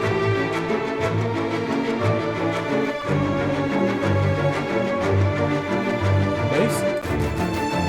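A cinematic trailer melody rides over layered Sonokinetics string beds, a dense, sustained orchestral texture that stays loud and steady throughout, with a brief bright accent near the end.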